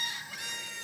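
Backyard chickens cluck and murmur faintly at a distance over soft outdoor ambience, a brief moment near a garden.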